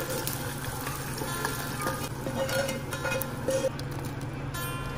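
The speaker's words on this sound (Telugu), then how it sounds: "ఇక బాగా ఫ్రై అయిన ఆనియన్ తాలింపుని పప్పులో వేసేసుకుందాం" Fried onion tempering poured into tomato dal for Andhra-style tomato pappu, giving a steady close sizzle with stirring and scraping in the pot for the whole stretch, no talk.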